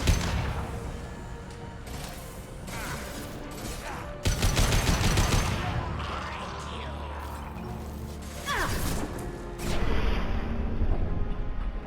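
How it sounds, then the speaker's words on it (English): Combat in the sci-fi shooter Mass Effect 2, with a concussive shot fired among heavy gunfire: dense, loud bursts of shooting, sharp impacts and crashes over a roaring background. "Firing concussive shot."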